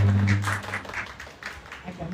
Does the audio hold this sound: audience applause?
yes